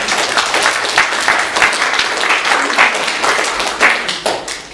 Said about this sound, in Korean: 같이 박수로 축하하겠습니다.